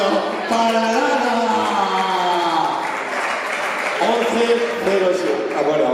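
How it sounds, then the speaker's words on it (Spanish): An audience claps steadily for a girl named Lara at a live magic and mentalism show, with sustained, fairly loud applause mixed with voices and cheering throughout. "fuerte aplauso para Lara"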